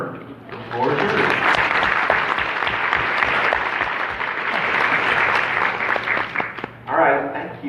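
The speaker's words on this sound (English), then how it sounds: "I hope that you will all give him another warm round of applause" Warm audience applause for a speaker about to give a speech on autism, a dense, steady roar of many hands that fills about six seconds before tapering off near the end.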